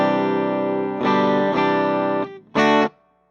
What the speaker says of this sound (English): Here's reverb at just barely up